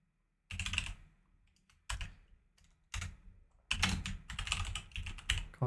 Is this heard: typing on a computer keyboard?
yes